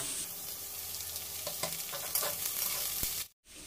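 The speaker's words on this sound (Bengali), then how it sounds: "পেঁয়াজগুলো লাল লাল করে ভাজা হয়ে গেছে।" Onions frying in a pan with potatoes for a boiled-pea ghugni, a steady sizzle with stirring scrapes and clinks throughout, close and alone, cutting out briefly near the end.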